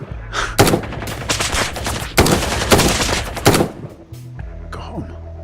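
Bursts of gunfire from the tactical shooter Ground Branch crack out loud and close in rapid strings, a few single shots mixed in, with a quieter musical tone at the end.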